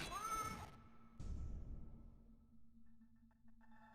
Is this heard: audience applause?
no